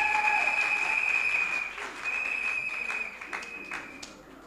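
A church congregation claps for Jesus during a Sunday service. The applause is loud from the start, dies down, then picks up again in uneven bursts, with a steady tone and some voices mixed in.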